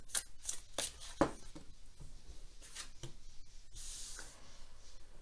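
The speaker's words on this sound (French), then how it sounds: "je bats les cartes et je prends uniquement celles qui sautent." Tarot cards shuffled by hand for a reading, soft papery riffles and flicks close up, quiet and irregular, with a sharper snap near the middle.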